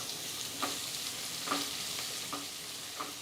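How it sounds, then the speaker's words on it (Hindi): Finely chopped garlic, a medium onion and green chillies fry in oil with a steady soft sizzle, while a spoon stirs the pan in several periodic scraping strokes, close and fairly quiet. "बस 2 मिनट हमने सारी चीज़ों को चलाते हुए पका लिया"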